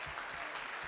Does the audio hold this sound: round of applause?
yes